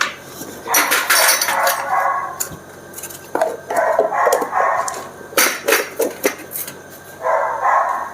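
Steel dishes and utensils are gathered up after tea in a Punjabi household, giving repeated clattering clinks and scrapes in uneven bursts, close and fairly loud, with no talking.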